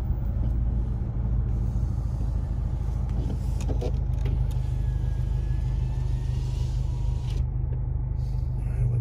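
A car approaches along a road in snowy Big Bear, California, its steady engine rumble and tire roar holding close and loud throughout with no talk over it.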